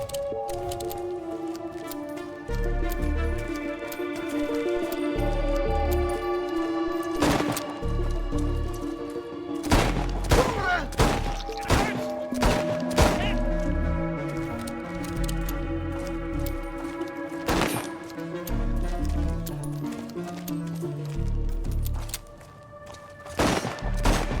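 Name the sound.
gunfire in the video game Chernobylite 2: Exclusion Zone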